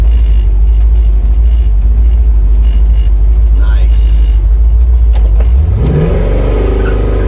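A 1964 Chevrolet Chevelle drives with a loud, steady low engine roar, then revs up and climbs through the gears near the end while someone talks over it.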